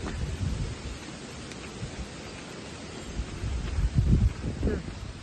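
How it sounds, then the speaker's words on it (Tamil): Steady rain patters with a low rumbling wash, swelling louder near the end; a voice may be faintly present. "இங்கே பாருங்கள் மழையை கொஞ்ச நேரத்தில் மழை வந்துருச்சு"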